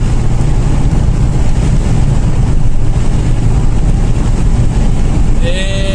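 A 1.6-litre Mazda 626 GD car at top speed: a loud, steady roar of engine, road and wind noise fills the whole stretch, with a brief rising tone near the end.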